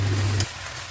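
Leafy greens hit hot mustard oil in a wok already seasoned with cumin, mustard seeds, turmeric and garlic, bursting into a loud, close sizzle that settles into a steady lower crackle.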